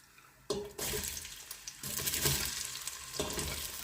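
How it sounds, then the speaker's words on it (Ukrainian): Hot oil sizzles loudly as onions drop into a pan over high heat, the hiss jumping up in bursts and then crackling steadily, with some clattering of utensils. "Так, вже почала вона кипіти. Ось так закладаємо цибулю."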